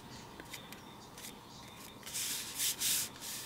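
Scissors or a trimmer snip excess paper off a handmade card base in a craft tutorial, giving soft rubbing cuts that build into several louder, close-up bursts toward the end.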